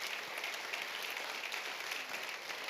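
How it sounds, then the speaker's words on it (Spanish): A church congregation applauds the Lord during a sermon, a continuous, even patter of many hands clapping that stays steady and moderately distant for the whole stretch, with no voices over it. "Va a darles aplauso al Señor"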